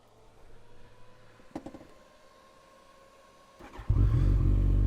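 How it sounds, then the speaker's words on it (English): A Kawasaki ZZR14 motorcycle rides off, with a couple of clunks and then the engine suddenly rising loud and close near the end. "let's jump on, let's go for a ride."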